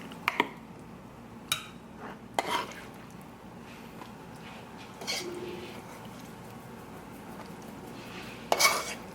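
Meat scooped into meal prep containers, with a few sharp clinks of a utensil against containers, spaced irregularly over a low room hum, plus a soft squishy scrape midway.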